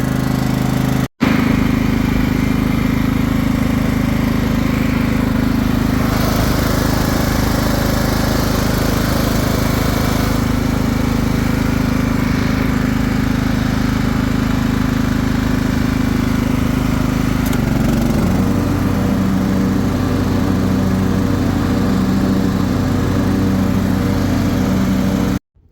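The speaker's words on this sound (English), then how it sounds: "we got the lawnmower to start" A Craftsman LT1000 riding lawn mower engine runs steadily and loud for the whole stretch, a constant droning hum that shifts to a slightly pulsing tone near the end.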